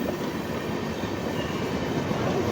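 The Radhikapur–Howrah Kulik Express pulls into a station with a loud, steady rumble of rolling wheels and rail cars that never lets up, with no voices.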